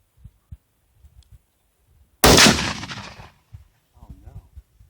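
One loud, sharp rifle shot fired at tannerite set under a fridge, cracking suddenly out of near silence and decaying over about a second, with faint outdoor shuffling and murmurs before and after.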